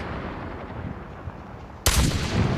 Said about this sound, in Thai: โอเค จังหวะนี้ต้องปืนกลนะ มันเป็นระยะเผาขนนะ